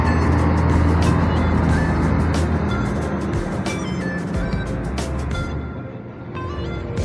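A Harapan Jaya bus pulling away from Tamanan bus terminal in Kediri, a loud, close engine rumble with a heavy low drone and clattering bursts, fading slightly as it departs through busy terminal noise.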